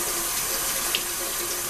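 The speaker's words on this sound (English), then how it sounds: "I'm rinsing this from the top where the sponges are going down through the cartridge" Tap water runs steadily over and through an edible ink printer cartridge at a sink, a continuous close hiss and splash without speech.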